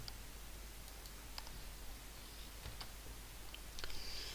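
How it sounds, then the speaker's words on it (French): Faint, sparse computer mouse clicks, a few isolated taps spread out over a quiet background hiss. "je clique sur suivant"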